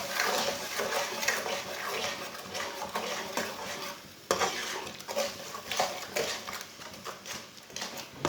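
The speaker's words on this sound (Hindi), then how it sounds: "थोड़ा सा पानी डाल लेंगे, अच्छी तरह मिक्स कर लेंगे।" Spices and water stirred in a pot while cooking chana dal with spinach, a steady scraping and sloshing with metallic clinks of spoon against pan, close and continuous without talking.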